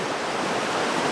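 Water rushing over the falls on the River Leven, heard from the ford just below: a continuous, fairly loud broadband roar with no voices.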